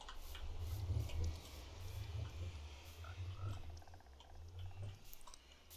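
Frogs in Minecraft Bedrock Edition 1.19, a soft low croaking pattern repeating at a steady pace beneath quiet background ambience, faint with no talk.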